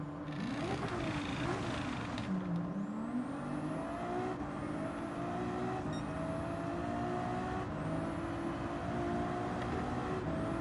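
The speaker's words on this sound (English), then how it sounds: "Oops, bit late on the braking." A racing car in Gran Turismo 7 brakes hard at the Nurburgring 24 Hours: a steady, loud engine drone dips sharply in pitch as it slows, then climbs again, with faint tyre squeal and no talking.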